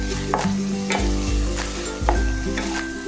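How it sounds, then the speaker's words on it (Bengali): Fresh chhana (paneer) is stirred and scraped in a hot pan while making sandesh, a steady sizzle under a few sharp, close scrapes and knocks of the spoon against the pan. "2-1 মিনিট ছাড়া ছাড়াই ভালো করে নেড়ে দিতে হবে, যতক্ষণ না পনিরটা বেশ একটু শুকনো শুকনো মতো কড়ার গা থেকে ছেড়ে আসে"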